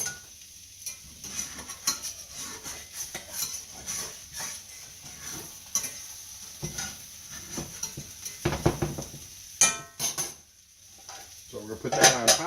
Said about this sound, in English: take my spatula around the edge and around the bottom of it a little bit